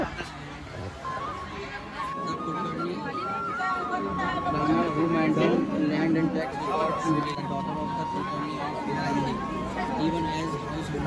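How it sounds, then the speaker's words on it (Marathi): A continuous hubbub of many voices in a long darshan line at the Pandharpur wari, with a crowd chattering close and far and a few louder voices standing out from the constant murmur. "खूप अशी मोठी लाईन आहे दर्शनासाठी."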